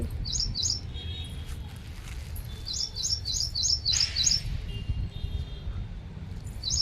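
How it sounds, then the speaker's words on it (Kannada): A bird calling in a vegetable garden during the rainy season, repeated short bright chirps in quick clusters over a low rumbling background, with faint talk. "ಪಕ್ಷಿ ಬಂದು ಕಾಯ್ತಾ ಇದೆ ಕರೀಲಿಕ್ಕತ್ತದ"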